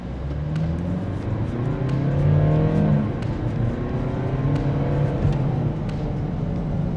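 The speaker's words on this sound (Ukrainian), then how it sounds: "Давайте я включу режим спорт. І покажу вам, як вона класно набирає." A Mercedes V250d AMG 4matic minivan in sport mode revs up and pulls hard with a rising, sustained roar, heard from inside over steady road noise.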